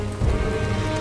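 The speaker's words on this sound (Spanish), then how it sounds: "Creo que está lloviendo veneno." Poison rain falling in the video game Valheim: a steady, dense hiss of rain pattering on surfaces, loud and continuous with no voices.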